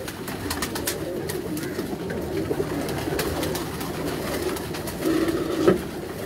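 Pearl-marked pigeons in a rooftop breeding cage coo steadily in a low throaty chorus, close and continuous, with a louder burst of cooing near the end.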